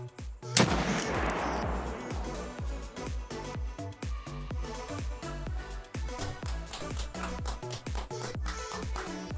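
Pistol gunshots in the video game Escape from Tarkov: one sharp loud shot near the start, then a long run of rapid, regular gunfire pulses continuing throughout, loud and close with no talk.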